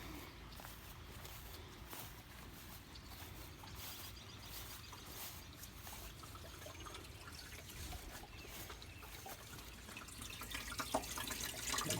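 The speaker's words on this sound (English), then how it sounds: "Fill it up with water on the hose." Water runs steadily from a garden hose into the bilge of a Bass Tracker Classic XL boat, a constant trickling, splashing wash that stays even throughout and swells slightly toward the end.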